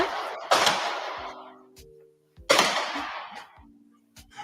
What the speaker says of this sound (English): So here's the gunshots.